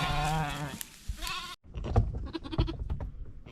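Ewes and their twin lambs bleating out on grazing pasture, one long wavering cry close by followed by a busy jumble of quieter bleats and rustling movement from the flock.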